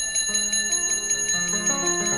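A bell rings steadily in a devotional storytelling setting, sustained metallic tones with repeated bright strikes, loud and continuous with a shifting pitch pattern underneath, no voice over it.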